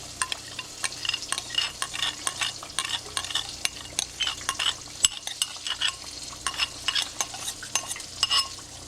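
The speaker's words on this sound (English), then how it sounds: "Go ahead and start pouring our eggs in there." Roe shad eggs poured into melted butter sizzle and fry in a pan, a steady crackling hiss broken by frequent scraping stirs of a utensil, close and continuous with no talk.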